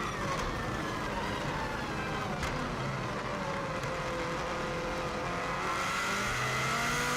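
A 2016 Subaru WRX STI is driven flat out on the Isle of Man TT course, its engine giving a steady, loud onboard drone that rises and falls in pitch with gear changes and acceleration.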